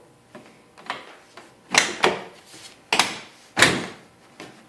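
The door of a GTM car is opened and closed several times, giving a series of sharp latch clunks and thumps at irregular intervals, close by and without talking.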